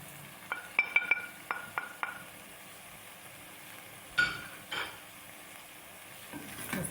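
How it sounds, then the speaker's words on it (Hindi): Chicken karahi is stirred and fried in a pan, with a quiet sizzle under a run of sharp metallic clinks and scrapes from the spoon against the pan, then a few louder knocks. "तकरीबन 2 मिनट हो गए हैं हम इसे भूनते हुए"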